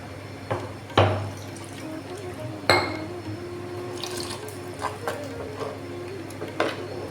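Water is poured into a thickened coconut-based catfish curry in a pot, a soft liquid splash broken by a few sharp clinks and knocks of a vessel, close by and with no talking.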